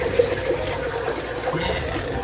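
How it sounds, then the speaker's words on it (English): A Japanese apartment toilet set to its large flush empties with a loud, close rush of water that continues steadily throughout, with no talking. "I'm gonna flush the big one."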